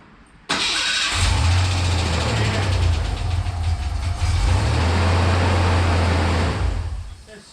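A 1988 Ford Bronco II engine cranks briefly, catches and settles into a loud, rough, steady idle close by, droning on for several seconds before dropping off near the end.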